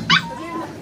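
A puppy lets out one short, sharp bark close by, trailing off into a thin whining tone.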